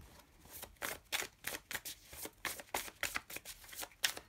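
Tarot cards are shuffled by hand, giving a close, soft run of quick papery riffles and flicks in an uneven rhythm, with no talking.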